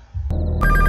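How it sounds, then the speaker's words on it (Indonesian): A public payphone starts ringing partway through, its bright electronic bell tone rising abruptly over a low background hum and holding loud and close to the end. "tiba-tiba terdengar suara telepon umum itu berdering"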